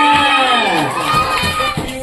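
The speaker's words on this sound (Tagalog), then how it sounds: "Let's give him a big round of applause" Crowd at a seventh birthday party cheering and shouting, with children's voices rising in excited whoops over the noise and scattered claps, loud and close.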